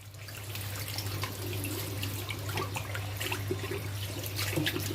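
Steady running water washing out a power gravel cleaner for an aquarium, a continuous close hiss and splash with a low hum underneath and scattered trickles and drips, no voices.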